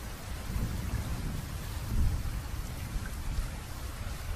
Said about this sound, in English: The first source of water is the rain.